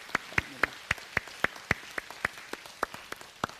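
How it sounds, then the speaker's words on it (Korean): One person in a church congregation claps slowly and evenly, a dozen or so sharp, distinct claps at a steady rhythm, fairly quiet and alone against a soft room background. "우리 하나님께 영광의 박수 올리겠습니다."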